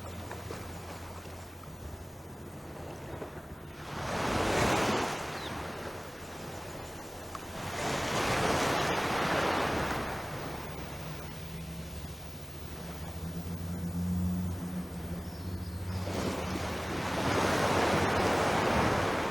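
Ocean waves breaking at a Barbados beach at daybreak, in Lower Carlton and Gibbs Bay, with slow repeated surges of surf washing in and receding under steady wind noise, no voices.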